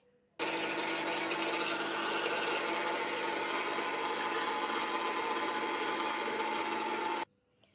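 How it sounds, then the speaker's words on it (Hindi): Electric grinder whirring steadily as it beats egg whites for a chocolate cake, a loud, continuous motor drone starting abruptly and cutting off after about seven seconds, heard alone. "सबसे पहले हम सफ़ेदी को ग्राइंडर में ऐड करेंगे और इसको जो है वो 2 मिनट के लिए बीट करेंगे।"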